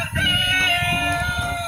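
An electronic chicken crow rings out close by, a bright, buzzy toy rooster call lasting under two seconds.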